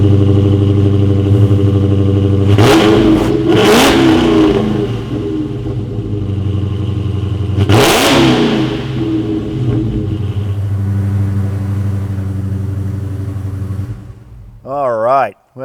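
A 2020 Dodge Charger Hellcat Widebody's supercharged engine idles with a deep, steady rumble, then is blipped into three sharp, loud revs that fall back to idle, the last around midway; a brief voice enters at the very end.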